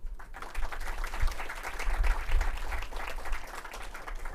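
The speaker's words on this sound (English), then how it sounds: "A big thanks and a big round of applause for all of them" Audience applause for the organizers at an HR summit, a broad continuous patter of many hands clapping, fairly distant and moderately quiet, steady for several seconds.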